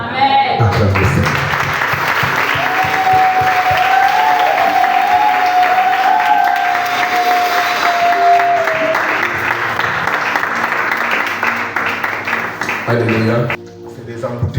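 A church congregation applauds loudly and continuously for a long stretch, with a crowd roar and voices mixed in and a sustained tone running through the middle, before the clapping thins out near the end.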